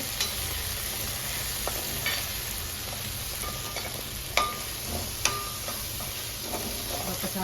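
Meat curry being stirred in a pan, with a soft continuous frying sizzle and occasional scraping of a spoon against the pan.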